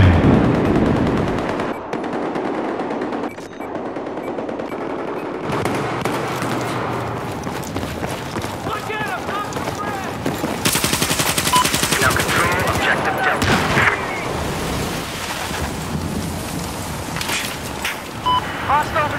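Battlefield 4 gunfire rattles in repeated automatic bursts and single shots, loud and close throughout, with a voice talking over the game action at times.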